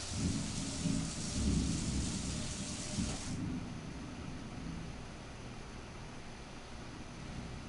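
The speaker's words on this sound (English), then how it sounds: "He hears thunder and he doesn't know." Deep rolling thunder in Fallout 4's Far Harbor region, loud and rumbling over steady rain noise, fading after a few seconds into a quieter rainy hiss.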